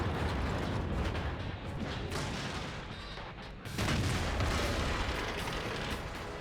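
Heavy mechanical clunks and booming gun blasts from an SU-100Y tank destroyer in World of Tanks, loud and dense, with a sharp drop before a renewed burst of firing.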